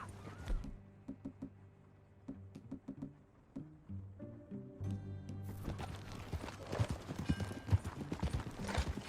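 Hooves clip-clop in a steady walking rhythm in Red Dead Redemption 2, quiet at first and then louder as movement picks up, with soft game music beneath.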